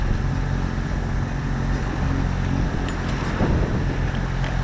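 A sailboat's engine runs steadily at about 1700 rpm, pushing the boat at six knots while crossing the Bay of Biscay. It makes a constant, loud low drone, with wind noise over the microphone.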